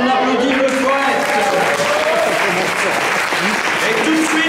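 Audience applauding a poet at a slam poetry competition: continuous, loud clapping from a crowd, with voices and cheers mixed through the applause.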